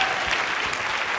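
A short burst of conference audience applause, many hands clapping together in a dense, steady patter.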